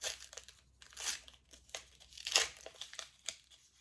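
Crinkly plastic rustles and tears in short bursts, close up, as a small packet is worked open with no talking.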